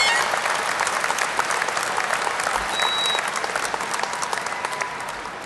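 Steady, dense applause from a large audience at a Binghamton University spring commencement ceremony, loud and sustained throughout before easing slightly at the end.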